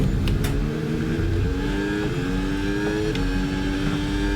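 A Formula 1 car in the F1 26 racing game, driving a Cadillac at Barcelona, roars loud and close into the first corner, engine pitch sweeping up through several gear shifts with brief drops between.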